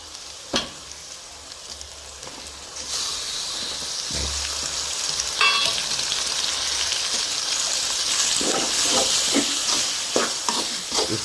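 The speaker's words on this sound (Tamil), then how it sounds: "லைட்டாக அந்த எண்ணெயில் வந்து இஞ்சி பூண்டு வந்து ஃப்ரை ஆகட்டும்" Ginger and garlic sizzle in hot oil in a pan for a spicy chicken gravy, a steady close crackle with a few stirring clicks and no talking.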